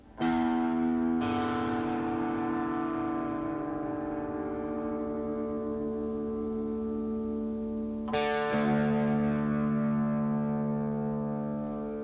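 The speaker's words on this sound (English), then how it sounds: "We're going to tune this down to match it like this." Plucked guitar strings ring together in a long sustained tone, re-struck after several seconds as one string is tuned down, with no voices.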